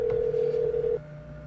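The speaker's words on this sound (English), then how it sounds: "Mrs. Tessmacher, get the Wayne Foundation on the phone, please." A telephone being dialed in a radio play, a steady electronic tone held for about a second before cutting off, leaving a faint fainter hum behind.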